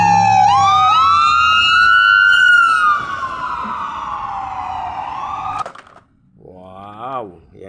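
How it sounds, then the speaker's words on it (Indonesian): A toy ambulance siren wails loudly, its tone sweeping up and then sliding slowly down for several seconds before cutting off abruptly, followed by a brief voice. "Kita mendapatkan ambulan."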